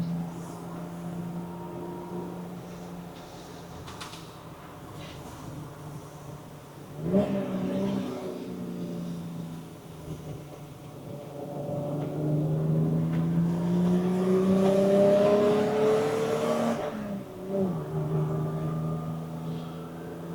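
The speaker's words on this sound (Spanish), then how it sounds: "Qué maravilla de sonido, suena muy muy bien este motor." A BMW 325i E30 cabrio six-cylinder engine revs up and down, rising pitch sweeps climbing and falling over a steady idle, heard from inside the car with no talk.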